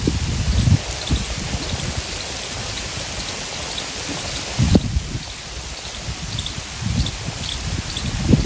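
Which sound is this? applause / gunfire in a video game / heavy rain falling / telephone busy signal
heavy rain falling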